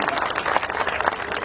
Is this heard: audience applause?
yes